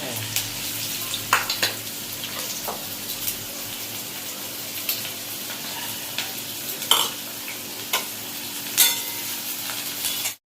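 Chopped onion and garlic fry in a pan, a continuous close sizzle broken by several sharp spatula scrapes and stirring knocks, ending abruptly.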